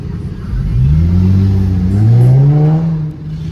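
A car engine revs up close and loud in a Dallas, Texas neighbourhood, one rising, swelling sweep with a deep rumbling tone that settles back down after a few seconds.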